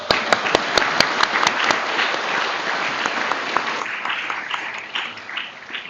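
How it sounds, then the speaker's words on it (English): Graduates at a 2025 commencement ceremony break into a loud round of applause, with sharp individual claps at the start merging into a sustained crowd roar that slowly eases off. "Give yourselves a round of applause."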